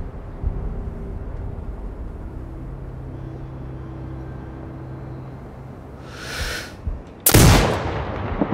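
A single loud sniper rifle shot cracks out in Sniper Ghost Warrior Contracts 2, preceded by a brief rushing swell and followed by a fading echo, over a quiet ambient hum.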